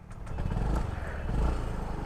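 Yamaha Ray ZR 125 scooter (2025) starting up, its small engine catching into a steady, close idle chug with low rumbling throughout.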